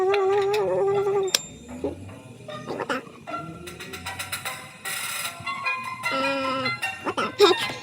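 Sheep in the Blockheads video game, including a pink sheep, bleat in short wavering calls amid game sounds and other noises, with a person talking over parts of it.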